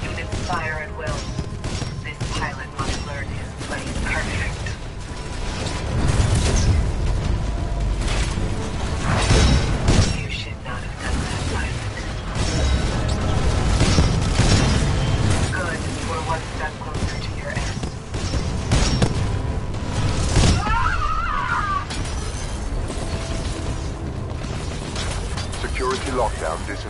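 Artillery salvo from a video game, a long barrage of heavy booming shots and blasts surging in waves, with crashing debris and a rumbling battle bed under occasional spoken radio-style voices.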